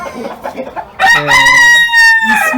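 A rooster crows loudly and close by, one long strained call that rises and holds before trailing off, following some brief soft clucking.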